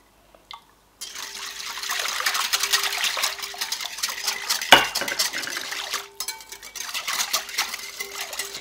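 Chocolate dough for homemade pain au chocolat being stirred in a bowl, a busy stream of scraping and clinking of utensil against the bowl, close and fairly loud, with a brief pause near the end.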